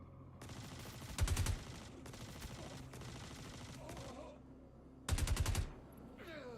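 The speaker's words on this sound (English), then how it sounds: "I think these security guards were shooting at each other." Gunfire in a video game shootout between security guards, with a steady crackle of shots in the background and two louder, rapid bursts of close automatic fire punctuating it.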